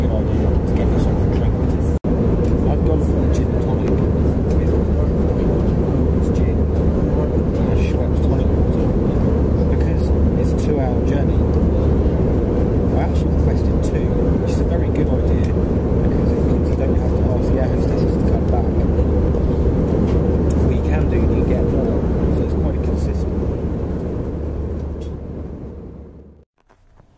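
Steady low roar of an airplane cabin, a constant engine drone and rushing air that stays even throughout before fading out at the very end.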